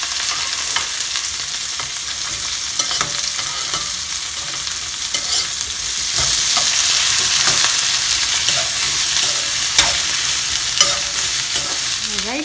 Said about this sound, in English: Fry this onion until it turns golden brown.